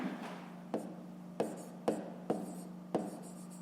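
Pen strokes on paper sound as a series of six short, sharp scratching taps in quick irregular rhythm, close and quiet over a low steady hum.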